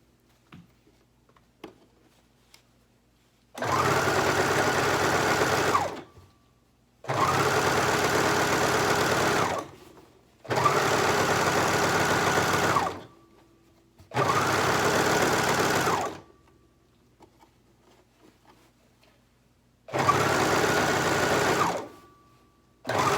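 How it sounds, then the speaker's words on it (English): A serger sewing a zipper into a qaspeq runs in five steady buzzing bursts of a few seconds each, separated by near-silent pauses, close and loud with no voices. "The trick with serger is make sure you don't sew over the pins,"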